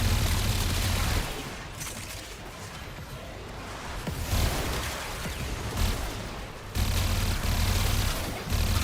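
Heavy, fast automatic gunfire with high recoil in the shooter game Warframe, loud sustained bursts broken by short pauses, close and dense.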